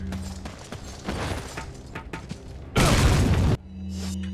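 A grenade goes off in Resident Evil 4 during the Krauser boss fight: a single sharp, heavy blast lasting under a second after scattered clanks and game noise, then settling back into a low hum.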